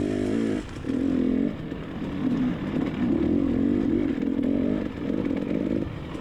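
A racing motorcycle engine revs hard on track, rising and falling in pitch through gear changes, loud and close with brief dips between strong pulls.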